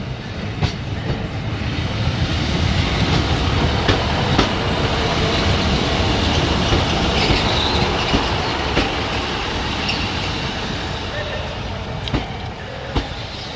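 A Class 150 diesel train on the Chester shuttle pulls into platform 9 at Crewe station, with steady loud rumble, clattering wheels and occasional sharp clicks over the rail joints throughout.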